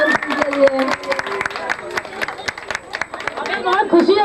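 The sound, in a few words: audience applause for candidate Suman Singh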